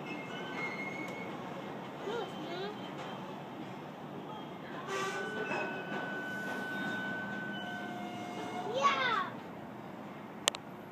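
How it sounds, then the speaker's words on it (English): Amtrak train passing at a meeting of trains, with faint rumbling and squealing wheel tones heard from a distance, a horn-like tone in the middle, and someone talking over it. "There go the Amtrak there, Martin."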